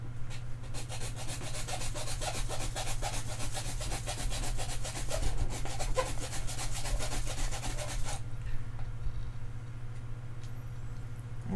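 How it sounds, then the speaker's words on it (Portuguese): A small hand saw cuts open an activated carbon water filter, giving a steady, rapid scraping rasp of back-and-forth strokes that stops abruptly near the end, over a constant low hum. "Virar a serrinha, já tem um lado para serrar"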